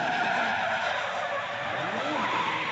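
Drift cars slide during qualifying at Orange Show Speedway, their tires squealing and skidding in a loud continuous screech with engine roar, rising and falling as they sweep past.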